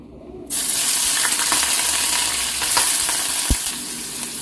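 A sudden loud sizzle erupts as food hits hot oil, then a steady crackling fry continues close by with a brief clatter near the end.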